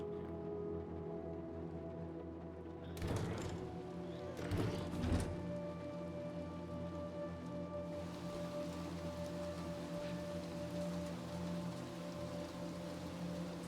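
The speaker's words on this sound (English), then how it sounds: "So it's now raining." Steady rain patters continuously at a moderate level in the video game Little Nightmares 2, with a couple of brief louder bursts early on and a faint tonal hum underneath.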